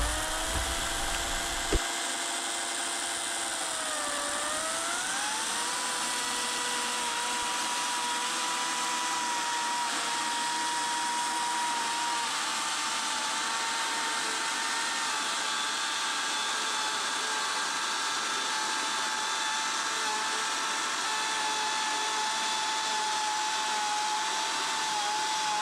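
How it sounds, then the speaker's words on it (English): Saw running on a mill while cutting wood into batten strips about 5/8 inch thick, a loud continuous whine that shifts pitch early on as the blade loads, then holds steady. "Then I get out my handy dandy saw."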